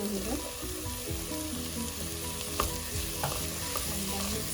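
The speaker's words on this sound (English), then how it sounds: "And then mix it well. Let it cook for another 2 to 3 minutes." Vegetables with sweet corn sizzle steadily in a pan while being stirred, with a constant frying hiss and occasional spoon scrapes and clicks in the background of a chicken sandwich recipe.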